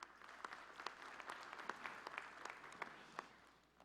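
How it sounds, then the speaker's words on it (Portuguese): An audience gives a round of applause at a formal solemn session, scattered hands clapping in a loose, moderately paced rhythm, fairly faint and distant, fading toward the end. "uma salva de palmas."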